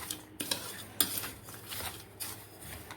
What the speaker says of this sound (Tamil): இப்போ இதை கொஞ்சம் நல்லா மிக்ஸ் பண்ணி விட்டுக்கிறேன்